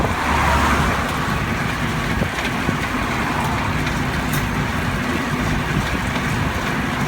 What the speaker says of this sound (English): pelted by rocks by all these trucks zooming past